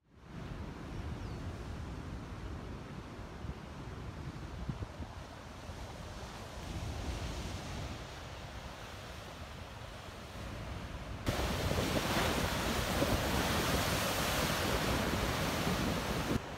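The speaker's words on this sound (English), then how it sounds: "So over here is the beach that the fisherman was talking about. It's pretty rocky as far as beaches go." Ocean surf breaking on a rocky beach on the Moroccan coast, a steady roar of waves mixed with wind buffeting the microphone, growing louder and brighter toward the end.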